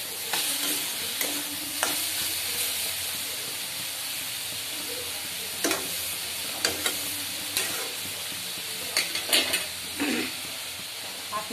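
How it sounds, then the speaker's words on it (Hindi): Water spinach stir-fried with garlic and dried chili in a hot pan: a steady broad sizzle and hiss runs throughout, broken by several sharp scraping stirs and clatters of the utensil, with no talking. "कलमी साग ट्राई कर रहे हैं, लहसुन और सूखा मिर्चा देखिए"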